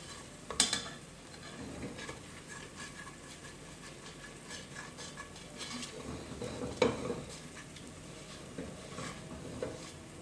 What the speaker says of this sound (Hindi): इस स्टेज पे अब मैं 25 से 30 सेकंड के लिए इसको और फ्राई करूंगी